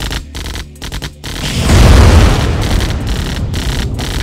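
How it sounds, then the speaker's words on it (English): Airstrike explosions in the Nintendo 64 game Command & Conquer, GDI Special Ops: brief choppy effects give way to a loud, deep booming blast that swells and then rumbles on with scattered bursts. "Airstrike ready."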